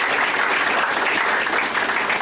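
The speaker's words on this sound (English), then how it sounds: "Give yourself a round of applause." Loud, sustained applause fills a ballroom at Queens Park Oval as the crowd claps for itself, a thick, even roar of many hands without pause.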